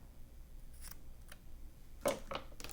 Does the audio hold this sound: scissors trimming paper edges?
yes